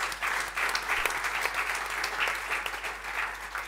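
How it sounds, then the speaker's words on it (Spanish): An audience at a panel talk on literature and football gives steady, moderately quiet applause, a continuous patter of many hands over a faint low hum. "Un aplauso también para Carlos."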